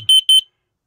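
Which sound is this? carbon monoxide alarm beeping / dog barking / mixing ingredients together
carbon monoxide alarm beeping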